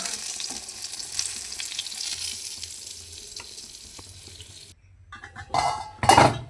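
Pointed gourd frying in oil in a pan: a continuous crackling sizzle with spatula and pan clatter, then a pause followed by louder bursts of sputtering and metallic scraping.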